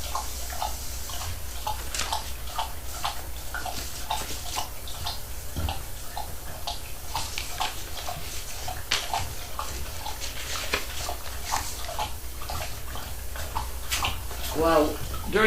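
Fresh water pours into a dog's bowl during a home mail-call session, a steady splashing wash with small drips and clinks, while people talk over it nearby.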